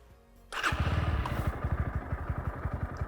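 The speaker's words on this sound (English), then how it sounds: "let's fire up both these bikes and hear the exhaust notes." A Bajaj Pulsar NS160 motorcycle starts up and settles into idle, its exhaust producing a close, loud, steady low thumping pulse after a brief quiet moment, with no talking.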